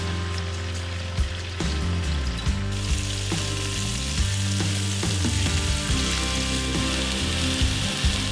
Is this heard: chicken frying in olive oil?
yes